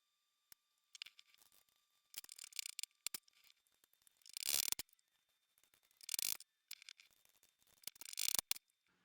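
A knife cuts up navel oranges for dry-hopping kombucha, giving faint, close bursts of slicing and scraping with scattered light taps against a board, and no speech.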